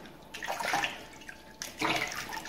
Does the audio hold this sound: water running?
yes